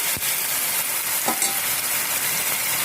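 Tomato and garlic sautéing in a pan for a quick pasta sauce give a steady, close sizzle, with a brief stirring scrape partway through.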